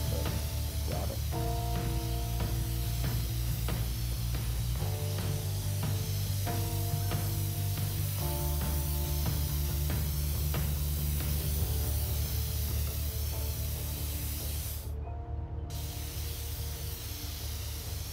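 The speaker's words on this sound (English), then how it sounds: "I'm supposed to spray." Spray painting in the video game inFAMOUS Second Son: a continuous loud hissing spray that runs throughout over a repeating musical backing, with one brief break near the end.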